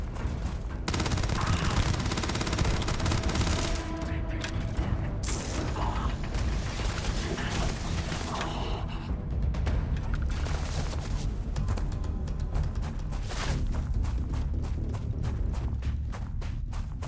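Rapid gunfire from a first-person shooter, fired at enemies wearing jetpacks in Starfield, runs as a dense, continuous rattle of shots and mechanical clatter for the whole stretch with no voices.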